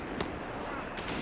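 Gunfire crackles in a dense, steady battle roar in Company of Heroes 3's Italian campaign, with two sharper shot bursts standing out over constant background noise.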